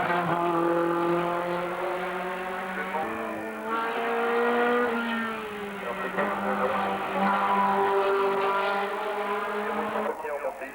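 The car of Roland Ducosier, driven by Daniel Pelé wearing number 126, sets off on a 1995 hill climb at Hébécrevon, its engine revving hard and climbing in pitch through several gear changes, loud and close.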